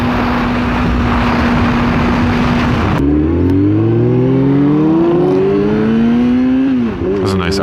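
A Maserati passes on a highway, its engine and tire roar swelling up close after a steady road rumble, with a falling pitch sweep as it goes by. A voice talks over it briefly.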